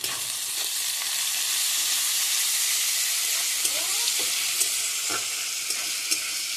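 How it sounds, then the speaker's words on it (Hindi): Garlic paste fries with softened tomato, onion and ginger for a pota kaleji gravy, giving a constant close sizzle broken by the scrape and clack of a spoon stirring the pan. "इसको कम से कम 2 मिनट भूनना है"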